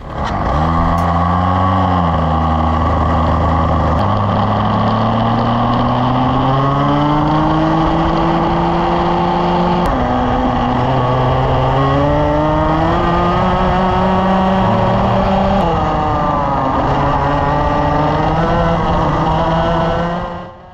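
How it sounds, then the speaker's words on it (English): A loud, buzzing racing kart engine with a race exhaust revving up and down continuously with a harsh exhaust note as it shifts pitch through the run, on a cold day. "Going to test the race engine today, race exhaust."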